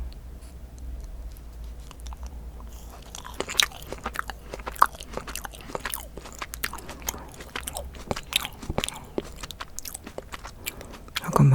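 Jelly beans bitten and chewed close to the microphone: soft sticky mouth sounds with scattered crisp bites and clicks, getting busier after a quiet start, with no speech.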